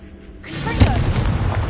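A Confringo fire spell blast in Hogwarts Legacy, a sudden booming burst that swells in after silence, peaks sharply, and leaves a sustained crackling roar behind it, loud and close.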